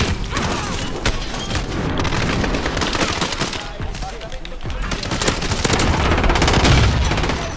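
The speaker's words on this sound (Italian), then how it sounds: "granate dappertutto. La madonna, esplosioni ovunque." Grenade explosions and bursts of automatic gunfire in the video game Call of Duty: Modern Warfare, rapid cracking volleys and booms layered densely and loudly throughout, without clear speech.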